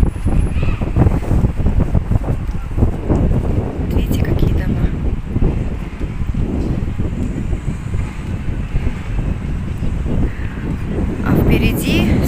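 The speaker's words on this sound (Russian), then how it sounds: "Ветерочек хороший дует" A pleasant breeze blows through a neighbourhood of new buildings near the sea and mountains in Batumi, buffeting the microphone with a steady rushing roar while a person talks over it throughout.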